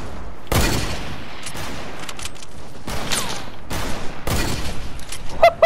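Sniper gunfire in the Fortnite video game: several sharp, loud shots spaced about a second apart, each with a brief ringing tail, over steady game background noise.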